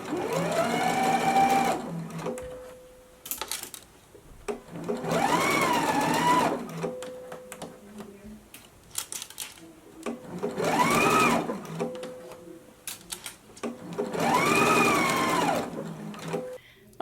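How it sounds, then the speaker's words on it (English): A sewing machine stitching bias tape onto a dress bodice runs in four loud, close bursts of whirring, each a couple of seconds long, separated by pauses with small clicks and handling noise. "So let's go ahead to the machine now and stitch this in place."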